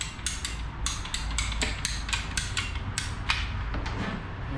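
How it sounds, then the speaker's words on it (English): PVC hose cutters on a bus heater hose give a run of sharp, fairly quiet clicks in an irregular rhythm, close by and with no talking. "I've got some PVC hose cutters and I'm just gonna click it in here"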